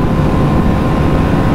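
A Kawasaki Ninja 300 motorcycle fitted with a wheelie bar arrives during a long road race, its engine a loud, close, continuous low roar mixed with rushing wind.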